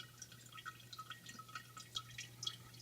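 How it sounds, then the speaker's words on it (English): Water wells up from a sink drain and spills over in a running indoor fountain, with faint, steady trickling and scattered soft drips over a low hum. "It's water just coming up from the drain and flowing over."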